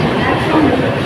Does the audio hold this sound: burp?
no